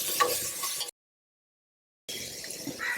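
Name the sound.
sautéing ginger, garlic and green chilli paste in a pan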